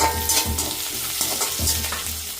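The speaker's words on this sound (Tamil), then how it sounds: "நாங்கள் துருவி வச்ச பப்பாக்காய் இப்படி போட்டு வதக்குவோம்" Grated green papaya is sautéed in a pan, loud close sizzling broken by repeated spatula scrapes and knocks in an uneven stirring rhythm, with no voices.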